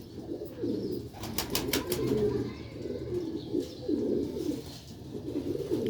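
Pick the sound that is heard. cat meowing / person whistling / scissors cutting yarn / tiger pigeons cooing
tiger pigeons cooing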